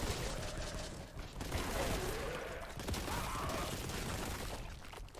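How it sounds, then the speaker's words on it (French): A machine-gun cultist fires bursts in the Warhammer 40,000: Boltgun video game, a dense steady barrage of rattling shots set back in a busy, quiet mix. "cultiste à mitrailleuse, c'est celui qui tire en rafale"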